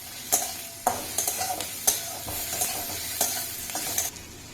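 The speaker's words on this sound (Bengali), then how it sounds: "এবার পেঁয়াজটা দিয়ে দেবো। পেঁয়াজ এখানে খুব বেশি ভাজবো না, একদম হালকা করে ভাজবো।" Onions sizzling lightly in a hot pan for semolina idli while a spatula scrapes and stirs in repeated strokes, close and fairly loud, with no talking.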